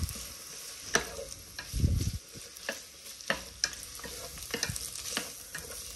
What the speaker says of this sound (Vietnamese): Rồi giờ mình trộn đều lên.